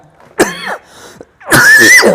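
Two rough, forceful coughs a second apart, close to the listener, with a quieter raspy breath between them.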